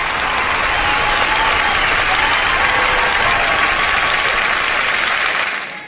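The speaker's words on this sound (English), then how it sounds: "a round of applause for me" Loud, dense applause from a large crowd, steady and unbroken for several seconds before tapering off at the end.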